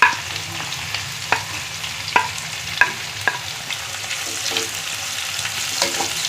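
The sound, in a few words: onions frying in oil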